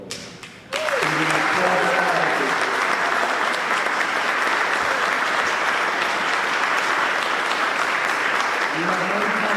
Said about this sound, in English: help me welcome to the stage with a very thunderous round of applause